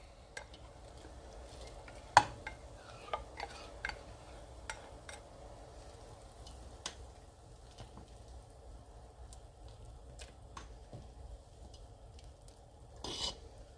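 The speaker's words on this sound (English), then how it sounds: "we're gonna go ahead and add the green onions" A spoon stirs green onions into a simmering chicken and sausage gumbo, with soft scraping and scattered sharp taps against the pot over a faint bubbling bed and no voices.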